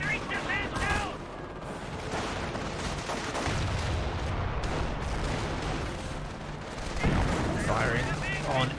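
Gunfire from a Flak 36 88mm cannon in the Company of Heroes strategy game, heard as repeated booming shots among dense battle noise throughout, with a commentator talking over it at the start and end.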